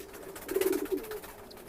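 Red checker racing pigeon chicks of a Johnson line give a soft, low cooing burst near the middle, close by, fading to quiet rustle.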